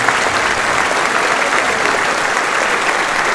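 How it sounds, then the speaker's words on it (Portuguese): Loud, dense applause from a seminar audience on sales, with the men standing to clap for the women, a thick unbroken roar of clapping held steady throughout. "os homens se levantem e dêem uma salva de palmas para as mulheres agora"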